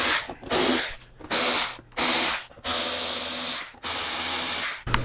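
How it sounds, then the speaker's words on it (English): Power tool driving out the four windshield bolts on a Harley-Davidson Low Rider ST style motorcycle fairing, heard as five loud, sustained whirring bursts separated by short pauses, close by with no talking. "we're going to start with removing the 4 windshield bolts"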